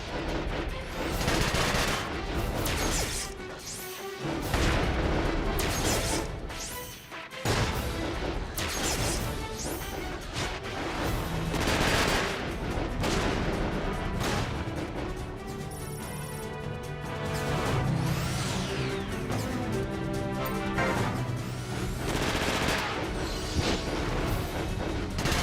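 Mechs in Front Mission 5 trade continuous gunfire and cannon blasts, a dense barrage of shots and crashes over game music, sustained for the whole stretch with brief lulls.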